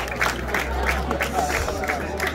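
Crowd applause at the prize ceremony of a cycling race, the 38th GP Comune di Lonate Ceppino, rendered as a steady wash of clapping and babble with a low hum running underneath throughout.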